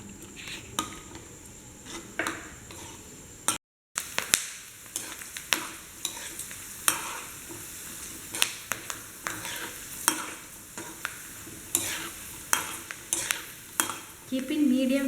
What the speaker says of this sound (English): And fry this.